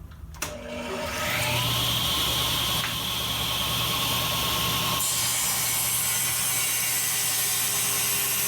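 A power tool cuts into hard zebra wood, starting with a sharp knock and then running as a steady, loud, continuous whine for several seconds at close range.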